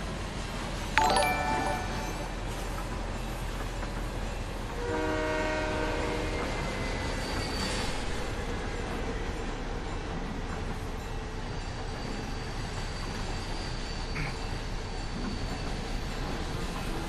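A train in the video game Fortnite rolls along with a low continuous rumble and clatter, a horn blast sounding early and again midway, moderately loud with no talk.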